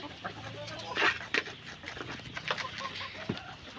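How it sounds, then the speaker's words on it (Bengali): Layer hens cluck and chatter in a barn on fresh bedding, several birds close by with overlapping short calls and a few louder squawks. "এই জন্য মুরগিগুলো অনেক খেলতেছে দেখেন"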